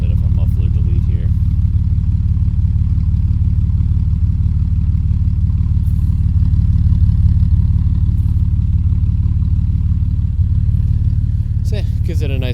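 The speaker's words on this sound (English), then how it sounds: "just did a little bit of a muffler delete here" A Jeep TJ with its muffler removed idles steadily, its deep, loud exhaust rumble running close and unbroken throughout.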